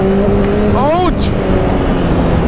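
Motorcycle with an aftermarket exhaust downshifting at a city red light, a brief rising and falling engine blip over steady traffic noise.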